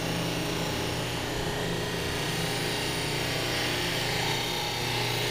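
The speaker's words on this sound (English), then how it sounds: "it's just easier to take the gasket off and polish the trim up this way properly" A power polisher buffs the trim of a 1966 Ford Galaxie 500 convertible with the gasket removed, giving a steady, loud, continuous whine and rubbing drone that holds evenly throughout with no talk.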